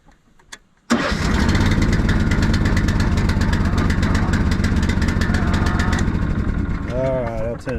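A ride-on lawn mower's small engine cranks and catches, then runs at a steady rattling idle close by for several seconds, with a person talking over it near the end.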